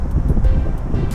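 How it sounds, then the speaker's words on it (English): Wind buffets a microphone high up on a bridge construction site, a steady low roar with gusty swells throughout and no other clear sounds. "It's a bit windy up there"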